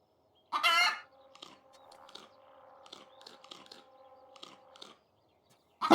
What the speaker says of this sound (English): I don't think the chicken sound is a bit too loud.